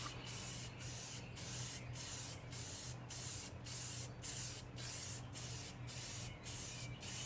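Rust-Oleum primer sprayed from a can onto a steel glider, about a dozen short even hissing bursts in a steady rhythm, close and clear over a low constant hum, no voices.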